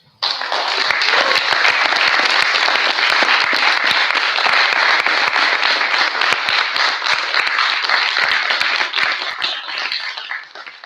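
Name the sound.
audience applause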